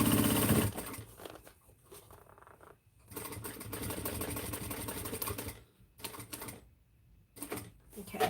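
A sewing machine stitching a backpack at a 3.5 stitch length, whirring in several sustained runs separated by short stops, close and moderately loud.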